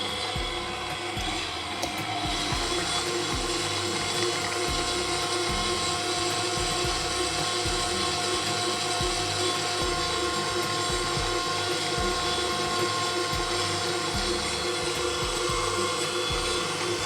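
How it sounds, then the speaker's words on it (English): An electric mixer beats cake batter with eggs for a Boston bun, running as a steady mechanical whirring rattle throughout, loud and close with no talk. "let's go ahead and add our eggs one at a time and continue on beating until it's a lot creamier"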